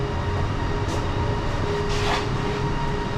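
An underground LRT train on the Kelana Jaya line in Malaysia rides along with a constant close rumble and hum, a couple of brief higher screech swells rising over the steady rolling noise for about three seconds.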